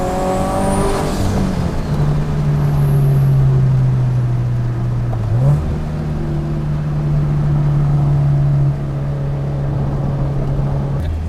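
A turbocharged Scion FRS runs down the street, its engine and exhaust droning loud and close in a steady tone, with one brief rev dip mid-drive before the hum carries on.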